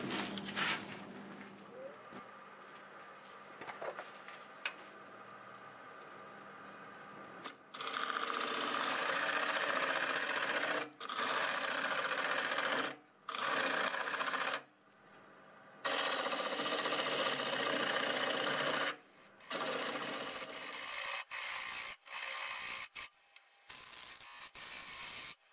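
Wood lathe turning a piece of apple wood, the tool cutting the hollow inside: a steady, fairly loud mechanical whir with a scraping, hissing edge, broken by several short pauses and restarts toward the end.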